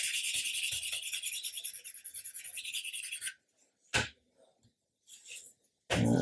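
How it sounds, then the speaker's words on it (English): Sanding a 1/35 scale model of a GMC truck with a Bofors 40mm gun using 800 grit sandpaper, a rapid close rhythmic rubbing scratch for about three seconds, then brief scrapes and handling noises. "If you keep going in the same direction, it's a lot harder to get rid of your witness of sanding."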